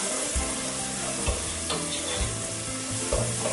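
Garlic hits hot oil with softened vegetables for a marinara sauce, giving a steady close-up sizzle with soft stirring scrapes throughout and no talking.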